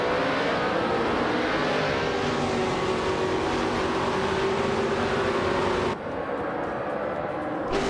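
Race cars in a racing video game accelerate with a dense, continuous engine roar and layered whining tones. The sound holds steady at full loudness, then thins abruptly just before the end.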